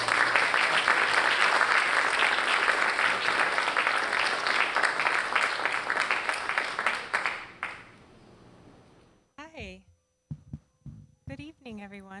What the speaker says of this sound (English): let's give a round of applause for Cara.